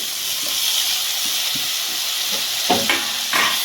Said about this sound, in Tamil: தக்காளி வெங்காயம் வதங்கிட்டு இருக்கு